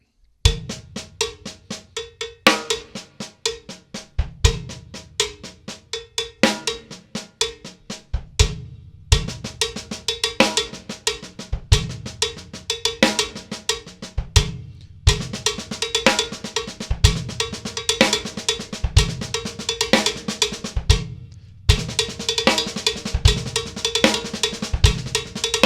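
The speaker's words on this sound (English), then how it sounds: "it's a nice little linear 16th-y sounding thing" Drum kit plays a steady 16th-note linear beat, sharp single strokes spread between hi-hat, snare and bass drum with no two limbs landing together, close and loud throughout with no talking.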